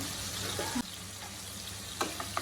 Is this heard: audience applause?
no